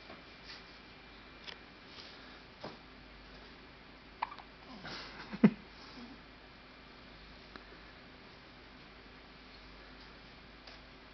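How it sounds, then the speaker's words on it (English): Small child hiccuping indoors, a few faint, sharp hiccups spaced several seconds apart over a quiet background, one slightly louder near the middle, with a little soft talk in the room. "Who got the hiccups?"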